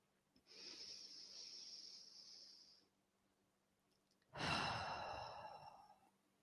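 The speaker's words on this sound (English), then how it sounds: "So we're going to take one more breath together. And another breath, the last one." Two deep, slow breaths taken together during a guided meditation session, each a long breathy rush of air, the second louder and fuller, separated by a brief quiet pause with no talking.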